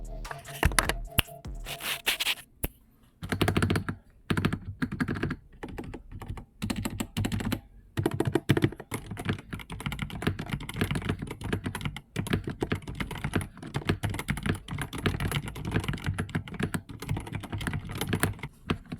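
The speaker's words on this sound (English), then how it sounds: "That keyboard sounds good, by the way." Steady, fast typing on a Redragon K685 Pro mechanical keyboard, dense clacking keystrokes running continuously with brief pauses, close and clear.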